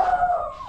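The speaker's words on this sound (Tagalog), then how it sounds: "nasa farm na tayo habang tumatahol si Bella" A dog on a farm gives a brief, loud, drawn-out whining howl that slides downward in pitch and is heard alone.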